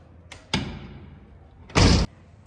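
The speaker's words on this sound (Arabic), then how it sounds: "سكر الباب ماما" A door is pushed shut at home, giving a soft knock followed by a heavier, louder thud a moment later, both close by and with no talking.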